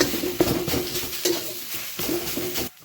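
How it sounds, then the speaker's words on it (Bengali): Bread crumbs being stirred into a cooking filling in a hot pan, a spoon scraping and mixing in steady rhythmic strokes over a light sizzle, close and alone. "দিয়ে দিচ্ছি পাউরুটির গুঁড়ো, ভালো করে মিশিয়ে নিচ্ছি"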